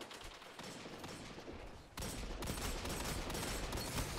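Slug shotgun fire in a first-person video game comes as a dense, continuous barrage of gunfire, with another sharp volley kicking in about halfway and holding loud to the end, no talk over it.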